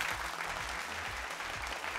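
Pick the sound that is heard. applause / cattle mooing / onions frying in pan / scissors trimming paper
applause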